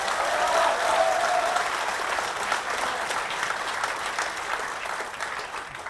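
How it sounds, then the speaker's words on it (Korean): Sustained applause from a crowd of local residents at a political town-hall meeting in Seongju, steady and dense throughout, with faint voices beneath. "박수 한번 주세요."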